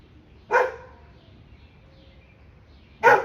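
Two sharp dog barks about two and a half seconds apart, fairly close, with quiet room tone in between.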